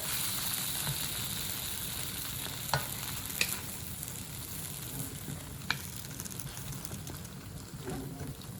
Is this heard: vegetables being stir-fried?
yes